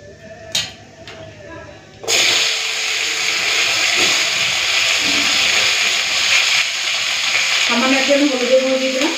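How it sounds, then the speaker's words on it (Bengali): Potatoes and bottle gourd stalks hit hot oil tempered with black cumin seeds, bursting into a loud, steady sizzle after a quiet start and frying continuously to the end. "লাউ ডাঁটা আর আলুটা পুরো লাল করে ভেজে নিয়েছি"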